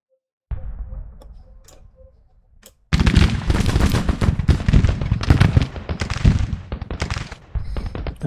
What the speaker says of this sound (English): That's the sound of B's Mississippi rifles opening up.